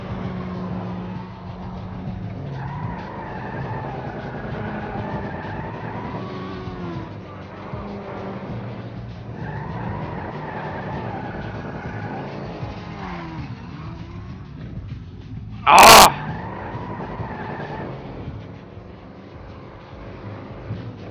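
A badly damaged car scrapes along on bare rims and skids through turns in Grand Theft Auto 5, its engine droning steadily and close for the whole stretch, with one sharp loud burst near the end.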